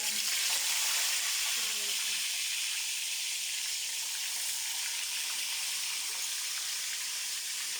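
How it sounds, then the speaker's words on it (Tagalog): Tilapia frying in a pan gives a steady, loud broadband sizzle and hiss that holds evenly throughout, with a faint murmur of voice early on. "Iprito naman natin ang kamatayang tilapia."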